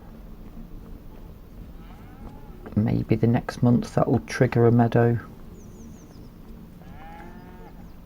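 In the farming video game Farming Simulator 25, cattle give several loud, drawn-out moos in a cluster near the middle, while a person talks over quieter game ambience.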